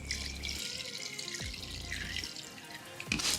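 Water sprayed in short hissing bursts onto plants inside a pickup spider enclosure, close and moderately loud, with brief pauses and small clicks between sprays.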